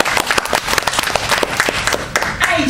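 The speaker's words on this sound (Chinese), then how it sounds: "那么下面大家给一掌声" Audience at a Chinese-language speech club meeting applauds a speaker, with a dense burst of many hands clapping from a nearby crowd indoors that lasts the whole moment.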